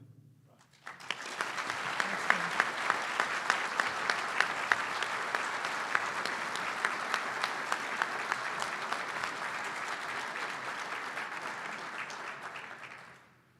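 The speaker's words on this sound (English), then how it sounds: "I'd also like to make sure we applaud tonight for Amy Shea, a true hero." Audience applause at an awards dinner, a large room of people clapping steadily for over ten seconds after a short spoken lead-in, full and sustained before fading.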